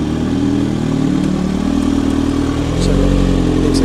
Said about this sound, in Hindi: भाई अब लॉन्च कंट्रोल करके दिखा रहे हैं आपको